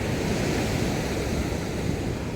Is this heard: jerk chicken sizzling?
no